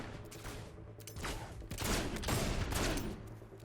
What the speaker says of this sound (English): I chose a flintlock rifle.